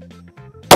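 A plastic bottle filled with hydrogen explodes in one sharp, loud, instantaneous bang at the very end, after a short stretch of quiet low hum.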